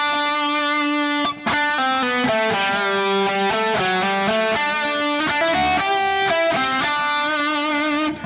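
A distorted electric guitar plays a sustained lead melody alone, notes ringing with rich harmonics and a touch of reverb, close and clear.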